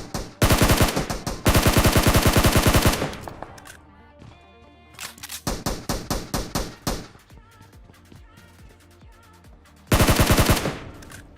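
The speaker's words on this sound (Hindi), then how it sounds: "उस पर SLR फायर कर रहा था" SLR rifle gunfire in a battle royale video game: loud, dense bursts of rapid shots in long strings, with a brief quieter gap of sparser, distant-sounding fire before another burst at the end.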